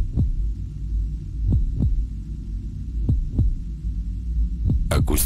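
Ural AS-C12.2 subwoofer playing deep bass, with low, thumping pulses in an uneven beat over a steady low hum, ending with a brief burst of higher noise.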